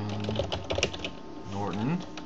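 Keys clatter in quick bursts on a computer keyboard while a search term is entered on a download site, with someone talking over the typing nearby.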